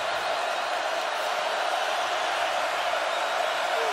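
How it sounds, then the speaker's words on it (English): A packed stadium of Washington Huskies fans roars at the Rose Bowl during a football game, a dense, continuous wall of distant crowd noise at steady loudness. "Husky crowd trying to make some noise on 3rd and 3"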